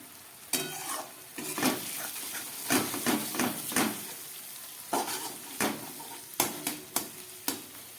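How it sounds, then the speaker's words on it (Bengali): Spice paste fries in a pan for an egg curry. The steady sizzle is broken by repeated sharp scraping strokes of the spoon against the pan, close and clear, with no voices. "এবার এই মশলাটাকে আরো খানিকক্ষণ আমি ভালো করে কষিয়ে নেব।"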